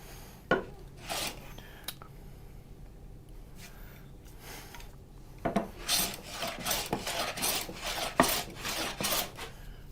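A hand plane or scraper smoothing lumber during a final finishing pass, with scattered rasping strokes that grow into a quicker run of close, dry scrapes against the wood.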